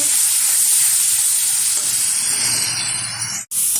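Ground onion paste sizzles and fries steadily in a hot pan while being cooked down for an egg curry, a loud continuous crackling hiss that cuts off briefly near the end.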